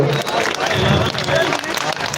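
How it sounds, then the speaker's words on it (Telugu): An audience claps for mothers at a film event, with a dense, continuous patter of applause and crowd noise filling the short stretch under voices. "సో అమ్మల కోసం అందరూ ఒకసారి చప్పట్లు కొట్టి"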